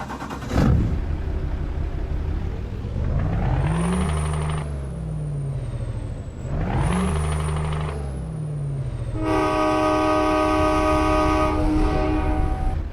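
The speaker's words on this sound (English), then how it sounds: "I added the train horn just because I wanted to." A loud, deep V8 engine of a Scania 730S truck in Euro Truck Simulator 2 rumbles with rising and falling revs, then a blaring multi-tone train horn sounds continuously near the end.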